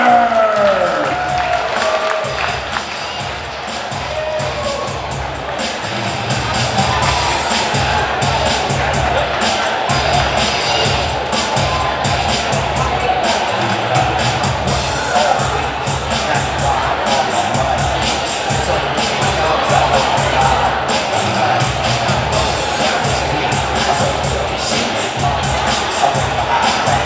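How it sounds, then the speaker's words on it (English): Banquet audience at a Wichita speedway awards night claps and cheers for an honoree, with loud crowd applause, whoops and rhythmic clapping swelling and continuing steadily, mixed with crowd chatter. "let's give a big round of applause to Jared Reimer."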